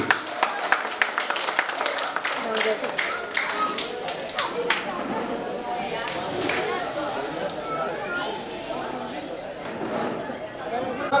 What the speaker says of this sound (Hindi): एक बार फिर तालियां बजनी चाहिए।